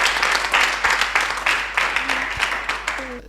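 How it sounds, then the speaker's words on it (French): Studio audience at an Ivorian radio sports show breaks into applause, a moderate burst of overlapping clapping that rises and falls across a few seconds, fading toward the end. "En tout cas, on applaudit là."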